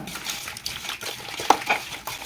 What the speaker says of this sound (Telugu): ఇప్పుడు మొత్తం కలిసేలాగా ఒక్కసారి కలుపుకుంటున్నా